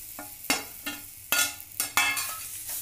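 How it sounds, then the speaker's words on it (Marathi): A spoon stirs semolina sheera with ripe banana as it roasts in a pan, giving a handful of sharp scraping strokes at an uneven pace over a faint sizzle, with no speech. "परतून घेणार आहोत हा शिरा, गुलाबीसर रंग येईस्तोवर"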